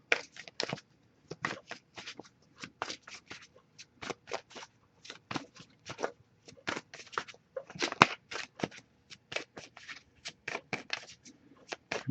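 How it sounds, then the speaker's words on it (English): Rapid papery flicks and riffles of tarot cards being shuffled, in quick irregular bursts over a quiet background, close up, with no talking. "I'll shuffle a little longer before we move on."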